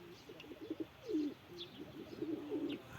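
A bird's soft, low cooing repeats in several short phrases, faint against quiet outdoor background hiss.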